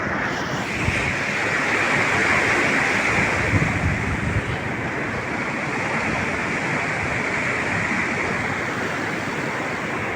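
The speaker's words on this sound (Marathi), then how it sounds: "भारी एकदम पाणी चालू आहे" Heavy floodwater in a river rushes steadily and loudly under a bridge, a constant broadband roar of flowing river with no voices.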